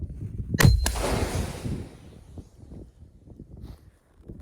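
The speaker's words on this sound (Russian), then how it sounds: "Произвели выстрел." A single loud gunshot fired outdoors, a sharp crack followed by a long rolling echo that fades over several seconds.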